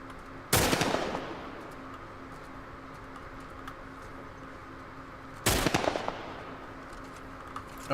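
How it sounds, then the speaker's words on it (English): Two loud, sharp gunshot bursts ring out from enemies in The Last of Us Remastered, about five seconds apart, each followed by a short decaying echo over a steady low game ambience. "Where's the other one shooting from?"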